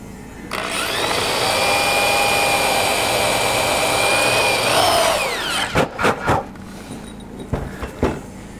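A power drill drives a screw into a cardboard silicone mold box with a loud, sustained whir that winds down, followed by a few short clicks and bumps of handling.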